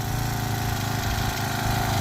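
The engine of a Redi Driver fence post pounder, recently revived after sitting unused for a couple of years, idles steadily with a loud, close, rough low chugging drone and no voices over it.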